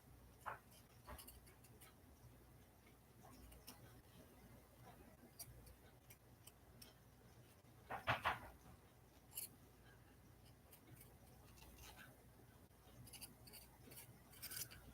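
Scissors snipping roughly around paper flower petals, a faint, sparse series of small cuts at close range with one louder cluster midway through, over a quiet room.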